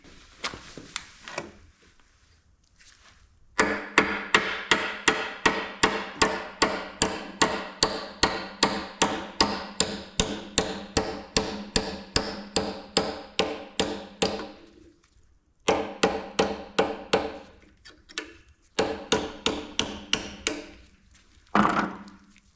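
A hammer strikes a punch to drive out the roll pin holding the crankshaft pulley on a John Deere Dubuque 430 two-cylinder engine, sharp metallic blows in a long steady rhythm, then shorter bursts after pauses.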